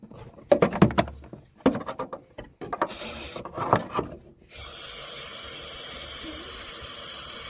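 Ether or brake cleaner is sprayed into the engine of a rear-wheel-drive Volvo demolition derby car: bursts of close handling clatter, then a sharp hiss and a steady loud spray-like rush that runs to the end.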